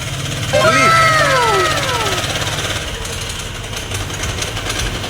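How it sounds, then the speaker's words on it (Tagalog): A Honda Click 125 V3 scooter engine idles with a steady rapid putter, briefly revving near the start with rising and falling tones, then settling into a rough idle. "pakinggan po natin yung kanyang ang kanyang makina"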